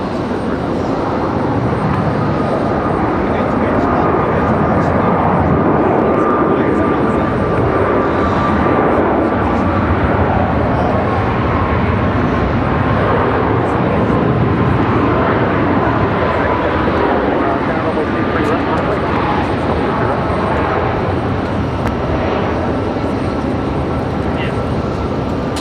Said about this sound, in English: Alaska 474, fly runway heading, runway 23 left, clear for takeoff.